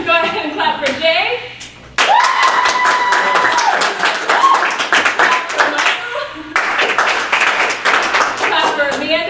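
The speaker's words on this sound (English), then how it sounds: "go ahead and clap for Jay" At an improv comedy show by a short-form training troupe, audience clapping breaks out in uneven bursts, with a performer talking over it and a brief lull partway through.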